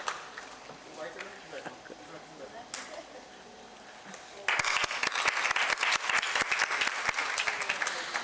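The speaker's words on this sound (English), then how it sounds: "Please give a big round of applause." Applause from an audience at a prize ceremony for a hematology-oncology medical festival, with light scattered clapping and murmur at first, then a dense, loud burst of clapping about halfway through that keeps going to the end.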